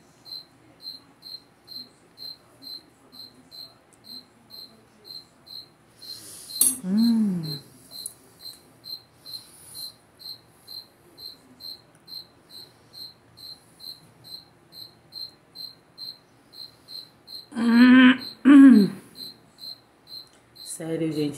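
Steady, rhythmic cricket chirps pulse evenly throughout, with a couple of brief louder bumps and rustles breaking in.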